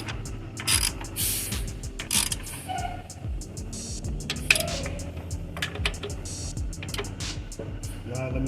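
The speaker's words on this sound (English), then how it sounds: "Now let me torque it down." A ratchet clicks in quick repeated bursts while torquing down an ignition coil on a Chrysler 300 engine, close and crisp, with a voice speaking over part of it.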